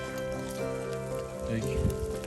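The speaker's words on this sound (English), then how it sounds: "So it's literally hailing." Hail falls outdoors on a warm day, a dense patter of pellets striking surfaces throughout, steady and close, with a voice and some tonal background sound mixed in.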